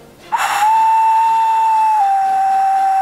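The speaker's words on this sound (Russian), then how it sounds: "Но главное, что я заснял, что оно свистит, да?" A handmade clay whistle is blown in one long, loud, steady tone after a brief breathy start, with the pitch dropping slightly partway through the held note.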